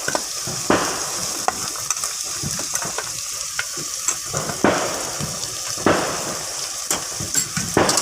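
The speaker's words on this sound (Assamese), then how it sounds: "গাজৰ, ফ্ৰেঞ্চবিন, পিঁয়াজ গোটেইখিনি মই ভালদৰে ভাজ খাব দিম" Carrots, French beans and onions frying for vegetable pulao, stirred in a pan with a steady sizzle and repeated scraping strokes of a spoon, several louder scrapes at intervals, nearby and without talk.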